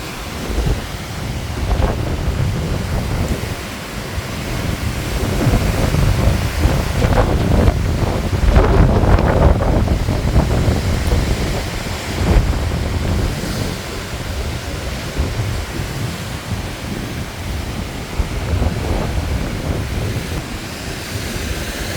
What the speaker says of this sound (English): we're being kept awake by a storm that's coming through